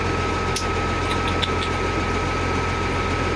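A tractor engine idles steadily at close range, a constant low rumble with a faint high whine, on a farm during spring tillage, with no speech.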